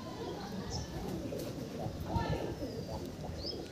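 Pigeons in a loft coo softly and steadily under a low, busy background with nearby voices talking throughout.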